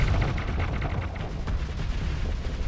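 Space battle weapons fire in the game Starsector, with a Light Spear ship and missile launchers, a dense rumbling barrage of booming, rapid shots that runs continuously throughout.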